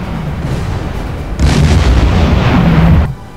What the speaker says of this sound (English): That's going to hit it right in the middle. Torpedo impact.